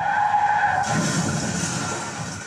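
A car skids in an accident sound effect: a sustained, loud tire screech that brightens and intensifies partway through, then trails off slightly, heard alone without talk.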